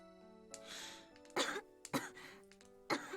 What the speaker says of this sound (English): I hear Tamane coughing from inside.